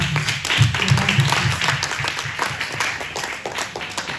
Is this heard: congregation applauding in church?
yes